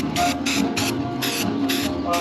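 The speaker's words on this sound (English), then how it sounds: "I'm gonna go ahead and start spraying this baby up." Spray paint hisses from an aerosol can onto the inside of a repaired metal piece in short, evenly spaced bursts, about six close, loud sprays with brief gaps between them.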